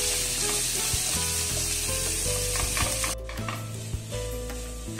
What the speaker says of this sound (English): we'll fry this up nicely first